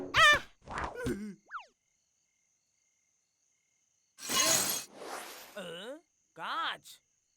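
Cartoon sound effects in a funny animated story: a burst of glass shattering with springy boing-like and zipping effects around it, loud and close, among brief animated voices.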